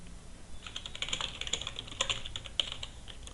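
Quick, light clicks of a computer keyboard as an application name is typed, a close, irregular patter of keystrokes that speeds up midway with a few sharper taps, alone in a quiet room.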